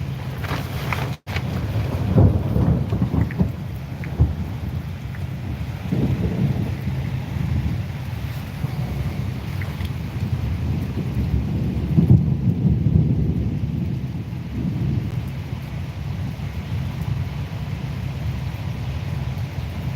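Heavy rain pours during a thunderstorm somewhere along a walk across America, a loud steady drumming with low rumbles of thunder and gusts of wind buffeting the microphone throughout.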